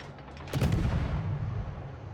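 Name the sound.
warship guns firing AP shells in World of Warships video game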